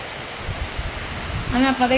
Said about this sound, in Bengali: দেখেন আপনারা এই গাছগুলো দেখলে বুঝবেন কেমন বাতাস হইতেছে আর কেমন বৃষ্টি হইতেছে।